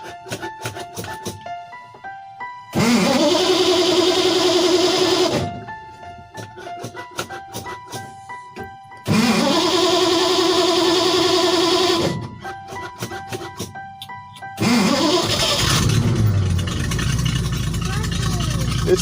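A car pulled out of a year in storage cranks and runs in rough, loud engine bursts that rev and fade several times, with people talking nearby in between.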